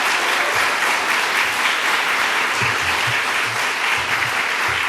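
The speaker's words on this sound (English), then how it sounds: "Let's give them both a round of applause" Applause fills a hall at a governor's bill signing on reproductive health care, a loud, dense wash of clapping sustained evenly, with low rumbles of movement or voices underneath.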